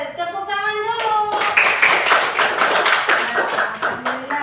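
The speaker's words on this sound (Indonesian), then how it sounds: "Oke, tepuk tangan dulu." Children clap their hands together in a classroom, a rapid burst of many overlapping claps following a teacher's sung or spoken cue at the start.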